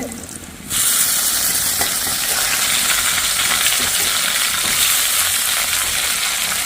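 Ginger and garlic sautéing in oil in a pan, a loud dense sizzle that bursts in after a brief quieter start and holds steady and close throughout.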